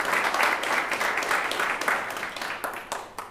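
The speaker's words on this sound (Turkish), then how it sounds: "bir alkış rica ediyorum" A crowd at a billiards tournament in a pool hall in Turkey gives a round of applause, dense, continuous clapping that holds steady and then tapers off slightly near the end.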